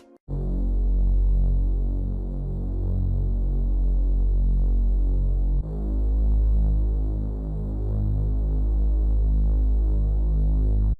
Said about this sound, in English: the bass line just following the bass notes, and I went with bass number 4